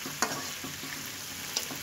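Rohu fish frying in hot oil for a curry gives a steady close sizzle, broken by two sharp spatters or stirs near the start and end.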